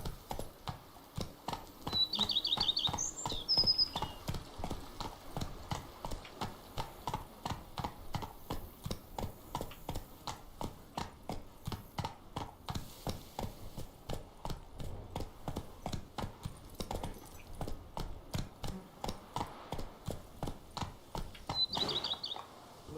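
The horse Roach gallops in The Witcher 3, a steady rapid clip-clop of hooves throughout at even rhythm, with occasional faint bird chirps in the background.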